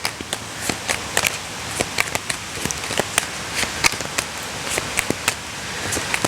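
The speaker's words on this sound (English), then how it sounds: "Do you hear that rain starting up again?" Rain starting up again outdoors, scattered drops pattering and tapping on a surface in an irregular, steady rhythm, close and fairly soft with no voices.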